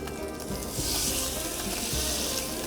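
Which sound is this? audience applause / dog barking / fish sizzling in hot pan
fish sizzling in hot pan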